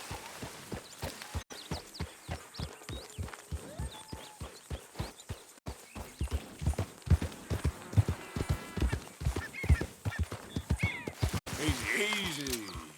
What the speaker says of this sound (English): I see you've been taking good care of that horse.